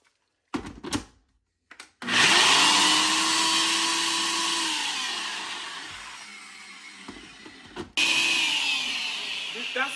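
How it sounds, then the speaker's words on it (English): An electric blender grinds walnuts in a laundry room, starting with a few short pulses and then a long, loud, steady whirring run that slowly sags in pitch, stops briefly, and roars back on again. "I blend it down to make sure all the big chunks of the walnuts"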